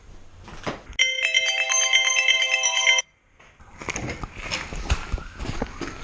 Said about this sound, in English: Yeah, Joe just called me